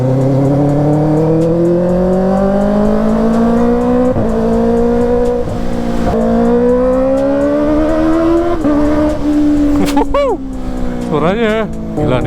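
A Kawasaki ZX motorcycle with a loud, noisy aftermarket exhaust revs hard and close, its pitch climbing steadily over several seconds with brief dips between pulls, then ending in a few quick sharp blips.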